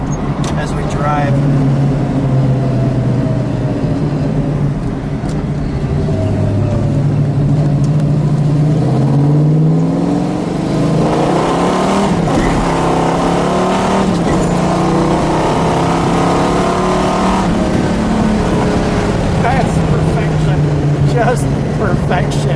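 A 1970 Plymouth Cuda with a factory 426 Hemi and four-speed rumbles loudly from inside the car on the road, engine note rising and falling through revs and gear changes, with a burst of hard acceleration midway.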